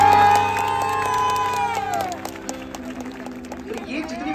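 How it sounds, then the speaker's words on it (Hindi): Concert crowd at a live show in Nagpur cheering and clapping, with a loud sustained sung or shouted note at first giving way to scattered whoops, applause and crowd noise. "एक बार जोरदार तालियां आपके लिए,"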